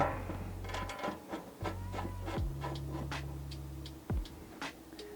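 A small woodworking clamp being tightened while assembling a brazier, a series of quick ticking clicks and light rubbing knocks over a low hum, close and fairly quiet.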